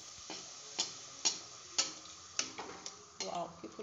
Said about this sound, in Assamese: কেৰাহীখন গৰম হৈছে যেতিয়া পুৰিকেইখন ভাজিবলৈ ল'লোঁ দেই